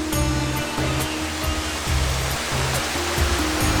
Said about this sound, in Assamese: আৰু এটা ঝৰ্ণা